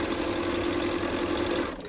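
Domestic sewing machine stitching pieced quilt block sections for a Glorified Flower Garden quilt, a steady close motor whir with fast, even needle clatter that slows and fades at the end; no voices.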